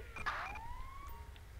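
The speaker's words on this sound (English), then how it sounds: "Ambulance." An ambulance siren in the LSPDFR police video game wails with a rising, sweeping tone that sounds close and loud over a low rumble.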